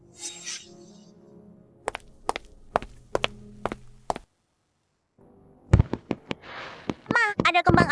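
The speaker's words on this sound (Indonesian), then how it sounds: "ada kembang api di luar" A run of sharp, cracking bangs in quick bursts, then a pause and more popping and crackling with whistling, like fireworks going off.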